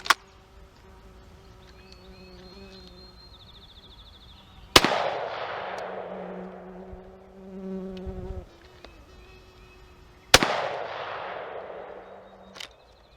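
Shotgun firing water-soaked shells outdoors: two loud, sharp blasts about five and a half seconds apart, each ringing out in a long decaying echo, with insects buzzing steadily in the background.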